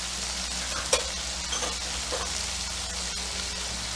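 Garlic sizzles in a frying pan with meatloaf ingredients, a constant bright crackle with a few louder scrapes and bumps as it gets stirred, close and with no talk.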